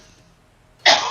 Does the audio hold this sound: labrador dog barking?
no